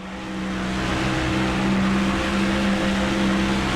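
A NASCAR Thunder 2004 stock car engine drones at steady high revs with a constant harmonic whine, loud and continuous, no one speaking over it.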